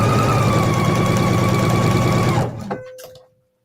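A sewing machine stitching a flange binding, a loud, close, steady mechanical whir with a rapid needle rhythm that runs down and stops near the end, followed by a faint click and quiet hum.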